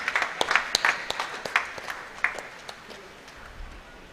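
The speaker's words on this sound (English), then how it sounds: "honor them with the applause" Sparse, scattered clapping from a small group of guests at a startup event honoring a team, a few distinct claps close by, irregular and thinning out, fairly quiet overall.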